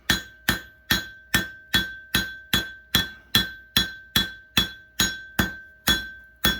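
A hammer strikes hot steel on an anvil in a steady, even rhythm of about thirteen sharp ringing blows, each with a clear metallic ring that decays before the next, close and loud with no talk.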